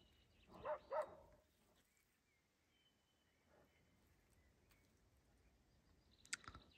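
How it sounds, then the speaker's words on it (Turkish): A larger dog barks in the distance, a quick double bark followed by a fainter single bark and another short bark later, each faint against a quiet outdoor background. "o şimdi havlayan başka. O biraz daha büyük bir köpek."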